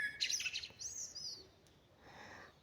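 A nightingale sings at night during the white-nights season over a quiet countryside plot, giving faint, distant high chirps and short whistled phrases against a soft background hush.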